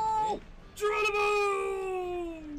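Two cat meows, a short one followed by a longer, drawn-out call, close and clear with a faint voice underneath.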